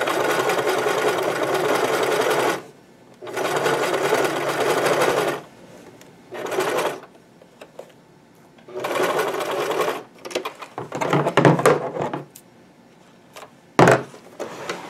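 A sewing machine stitches a fabric bodice seam for a Princess Peach cosplay. It runs in fast, loud bursts separated by short silences, and the later runs turn choppy and irregular.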